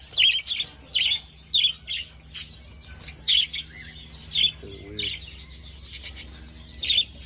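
Budgerigar parakeets in a cage give bright, rapid chirps and short squawks in repeated bursts, fairly close and steady throughout, with no talking.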